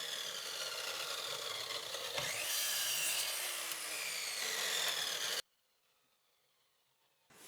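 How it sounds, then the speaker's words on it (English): Chop saw cutting wooden cartwheel spokes to length, a steady broad rasping cut lasting about five seconds before abrupt silence, close and moderately loud with no voices. "I then pop over to the chop saw and cut them to length"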